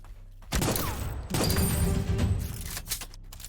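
Gunfire in the video game Project Genesis, two loud bursts of shots in quick succession with a booming, crashing tail, then a few fainter thuds trailing off.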